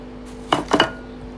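Chin chin dough ingredients being mixed in a large bowl give two short, close clattering knocks and scrapes against the bowl, with quiet in between and no talking.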